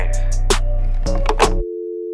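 A phone tone sounds in a hip-hop track: a thumping beat and synth run for about a second and a half, then cut to a steady, plain electronic phone tone that holds alone at an even level.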